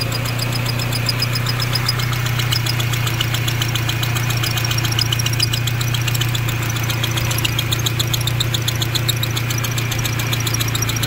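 Honda CRX engine idling with its valves out of adjustment and in need of a hot valve adjustment; a steady close-up idle with a fast, even ticking pecking along throughout, no talk.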